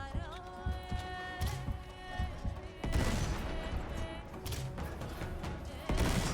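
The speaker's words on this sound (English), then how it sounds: "Those blind fire shots though." Blind-fire gunshots in the video game Uncharted 3 ring out as rapid, irregular bursts of gunfire and impacts, layered over a sustained tonal game score.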